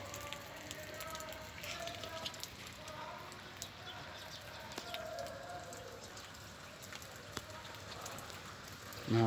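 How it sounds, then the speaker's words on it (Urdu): Heavy downpour over wet ground near a parked car: a continuous hiss of rain with scattered drop impacts, a faint bird calling now and then, and a brief louder knock right at the end. "زبردست بارش ہے ماشاء اللہ"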